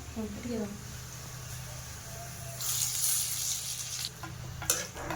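A burst of sizzling and hissing rises midway as tempering spices with garlic and chili hit hot oil for Odia tomato khatta, after a brief murmur of voice at the start.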